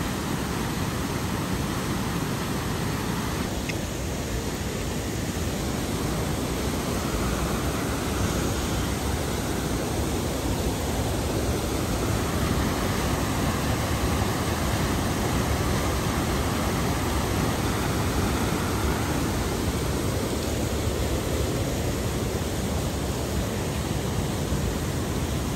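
Steady, dense rushing roar of a waterfall on the Little Zigzag River on Mount Hood, heard from the side on a rocky trail, continuous and loud with no voices.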